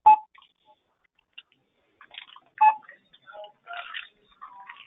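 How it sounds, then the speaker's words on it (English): Telephone keypad tones from an unmuted participant's line on a webinar call beep in short, irregular bursts, faint and scattered, with a few tighter clusters of tones. "I hear a beeping."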